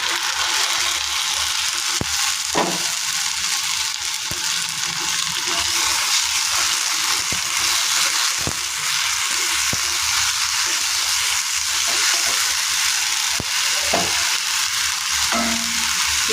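Ginger paste sizzles steadily in a hot pan, a dense, loud, continuous frying hiss with a few faint clicks of a utensil throughout.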